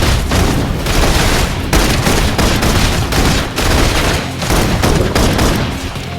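Dense, continuous bursts of gunfire in the game Love and Deepspace, loud and close, with rapid overlapping shots and booms rattling on without a pause.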